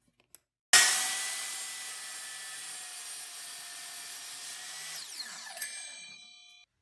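A power saw cuts a 45-degree miter in wood for a picture frame: a sharp start, then a sustained whining cut that slowly fades, ending with a brief rising screech as the blade spins down.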